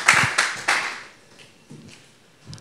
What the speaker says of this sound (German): Sie hören hoffentlich Ihren Applaus ein bisschen.